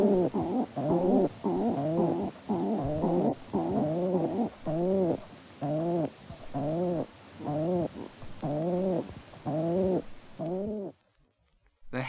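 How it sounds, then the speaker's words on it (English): A hen feral pigeon coos in a gruff, throaty voice, about a dozen rolling calls in a steady rhythm, close and clear with no talk. "The hen feral pigeon has a gruff coo"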